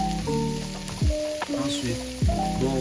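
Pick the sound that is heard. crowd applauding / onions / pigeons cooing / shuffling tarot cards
onions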